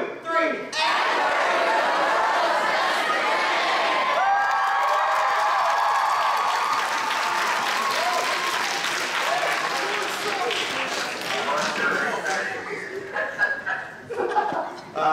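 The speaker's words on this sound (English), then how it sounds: "And you're going to yell, cheer, stomp, whatever." A large conference keynote audience of a few hundred people yells, cheers and applauds loudly and continuously, with dense clapping and scattered laughter that tapers off near the end.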